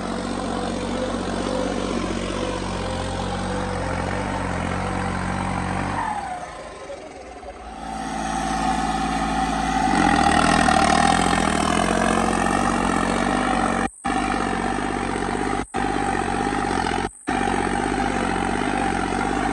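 A New Holland tractor engine drones loudly and steadily, briefly dipping then rising to a stronger, harder-working roar, with brief dropouts near the end.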